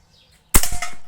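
A 5.5 mm air rifle fires a single sharp, close crack after a moment of near silence, followed by a short rattling echo as the pellet strikes.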